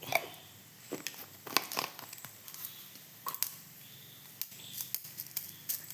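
Scattered sharp pops and crackles burst irregularly, close and fairly faint, like seeds spattering in hot oil.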